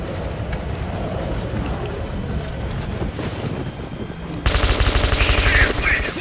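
Metro 2033 Redux gameplay: rough, noisy ambience gives way to a loud, dense burst of rapid machine gun fire in the final two seconds.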